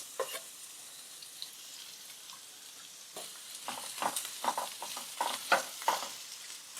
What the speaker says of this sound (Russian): Отправляю обжариваться лук до легкого золотистого цвета